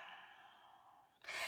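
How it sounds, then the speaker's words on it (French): A slow, deep exhalation during a yoga session for hips and back, a soft breathy sigh held for about a second before a sharper, louder intake of air. "respire profondément"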